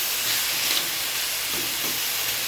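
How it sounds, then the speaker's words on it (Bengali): Potato, onion and okra fry in hot oil in a wok with salt and turmeric, giving a loud, continuous sizzling hiss that stays steady throughout with no voice over it. "কড়াইতে তেল গরম করে নুন হলুদ দিয়ে এই সবজিগুলিকে সব একসঙ্গে ফ্রাই করছি"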